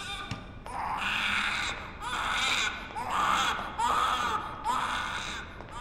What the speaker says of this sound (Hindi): उधर बच्चा रो रहा है